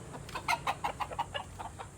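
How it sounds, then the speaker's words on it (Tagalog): Dekalb Brown layer hens cluck in a rapid series of short calls, a soft steady run of clucks over a low background hum, with no talking. "So this is a decal brown layers."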